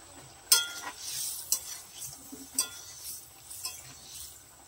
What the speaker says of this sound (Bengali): এরপরে আমি এর মধ্যে দিয়ে দেবো 3 পিস মাছ